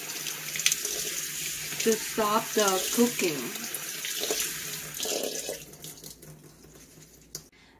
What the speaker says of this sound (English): And run the cold water over it